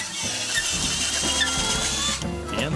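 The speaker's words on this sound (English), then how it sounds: "To keep things neat, I drill a series of holes through the studs" A drill boring a run of holes through wooden wall studs during a home cable installation, a steady loud whirring grind that holds almost without a break throughout, with brief dips in pitch as the bit works through the wood.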